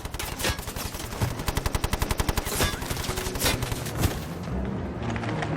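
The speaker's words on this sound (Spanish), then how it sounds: "ya que cogió la ametralladora Bren. Kane comienza a disparar." A Bren light machine gun fires a long rapid burst of evenly spaced loud shots, with a few heavier blasts and booms mixed in amid a battlefield din, then trailing off into rumbling noise.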